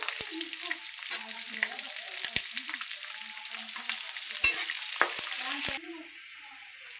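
Peanuts, green chili and onion fry and sizzle in hot oil for poha, with a steady crackle broken by sharp clicks of a spoon stirring the pan; the sizzle softens near the end.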